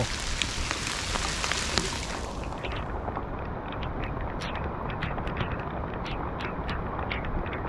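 Heavy rain pours down at a fishing spot, a loud dense rushing hiss with scattered sharper drop impacts, continuous and close for the whole stretch.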